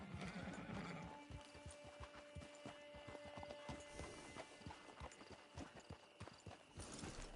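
In Red Dead Redemption 2 Online, a horse's hooves clip-clop in a steady walking rhythm, with a short whinny near the start and a faint tonal hum underneath; no voices.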